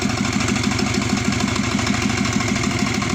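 Subaru Forester SG9 with an EJ255 turbo engine running at idle, a loud, close, steady rumble with an even pulsing throb and a mechanical hum throughout.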